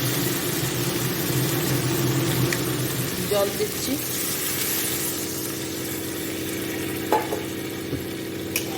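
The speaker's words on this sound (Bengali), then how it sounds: "চিমনিটা চালালে এত আওয়াজ হয়" A steady mechanical whir of a kitchen chimney exhaust fan runs throughout, with someone speaking briefly over it and faint clinks of cooking.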